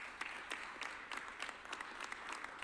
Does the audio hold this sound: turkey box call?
no